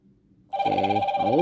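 A Z8 Ultra Max smartwatch rings loudly with an incoming Bluetooth call, a steady electronic ringtone with a warbling melodic pattern that starts abruptly after a brief quiet moment and carries on close up.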